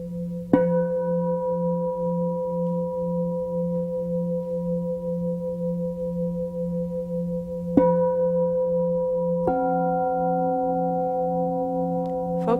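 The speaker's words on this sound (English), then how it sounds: "Allow the tones of the gongs to simply wash through you." Meditation gongs struck three times, each hit blooming into long, layered sustained tones that shimmer and overlap, a steady low hum underneath, with no talking.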